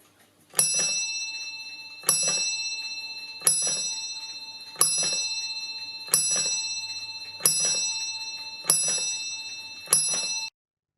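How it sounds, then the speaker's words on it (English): Friar figure on a restored Reclus master clock from about 1875 strikes a bell eight times at an even, unhurried pace, each clear metallic ring decaying before the next. "ready to start ringing the bell"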